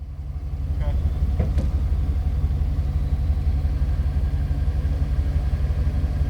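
A van engine idles in neutral at Slab City, a steady low rumble that holds close and even throughout, with brief faint knocks early on.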